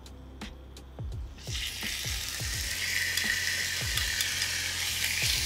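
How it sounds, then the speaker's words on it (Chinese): Pork belly sears in a preheated pan with a steady, fairly loud sizzle that builds after the first second and holds, while low knocks and thumps from the pan sound through it. "咁啊燒熱咗個 pan 先，咁咧煎香個腩肉佢啦"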